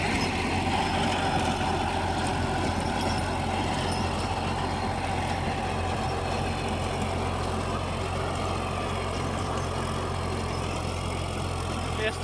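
A tractor runs a 2015-model 42-blade rotavator through a field, a steady loud engine drone with a dense churning rumble of the tiller throughout, close and unbroken.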